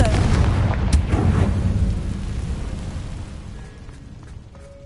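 A Confringo blasting spell explodes in Hogwarts Legacy, a loud booming burst at the start that rumbles and fades away over several seconds, with faint tonal chimes afterward.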